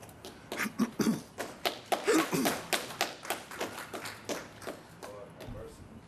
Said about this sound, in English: I'm not sure if you're clapping for Councilman McFarland